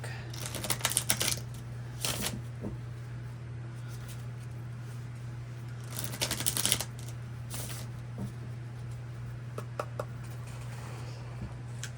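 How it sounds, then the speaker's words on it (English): A deck of tarot cards is shuffled in several quick riffling bursts separated by pauses, close and crisp over a steady low electrical hum. "Okay, a couple more shuffles here."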